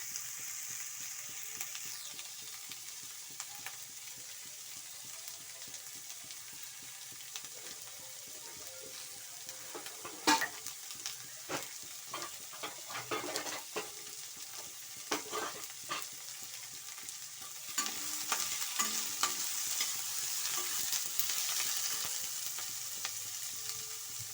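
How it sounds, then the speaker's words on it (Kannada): Cut vegetables hit a hot pan for vermicelli upma, then steady frying sizzle runs under repeated scraping and clattering stirring strokes, growing louder and brighter toward the end, with no talk. "ಇವಾಗ ಕಟ್ ಮಾಡ್ಕೊಂಡಿರೋಂಥ ವೆಜಿಟೇಬಲ್ಸ್ನ ಹಾಕೊಳ್ಳಿ"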